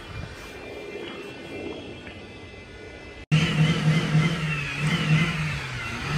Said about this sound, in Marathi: हा माणूस इकडे गाडी चालू करून जोरात एक्सिलेटर देतोय